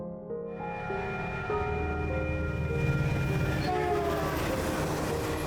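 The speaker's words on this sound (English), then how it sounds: "The train is very noisy when it blasts its horn" A train horn sounds in long, sustained chords over the rumble of a passing train, loud and continuous with a steady rolling clatter beneath.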